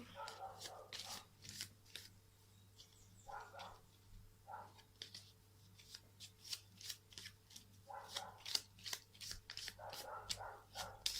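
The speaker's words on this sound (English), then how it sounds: "Let's pull a chakra healing card for you." A chakra crystal healing card is drawn from a deck during a tarot reading, giving soft repeated shuffling and flicking of cards in short bursts. Quiet talk runs between them over a low steady hum.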